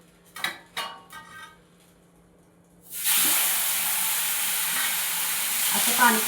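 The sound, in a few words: cucumber thalipeeth frying on a hot tawa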